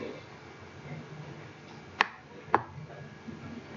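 Two sharp computer mouse clicks about half a second apart, crisp and close over a quiet background hum, with no talk.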